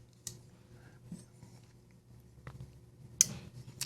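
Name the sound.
flipper knife detent clicking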